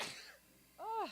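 A single quick sneeze bursts out at the start, fairly faint, followed by a short spoken sound.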